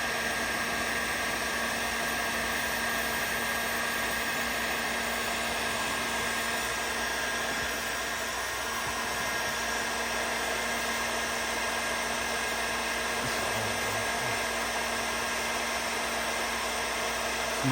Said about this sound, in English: This is the fitting coming off with the heat gun.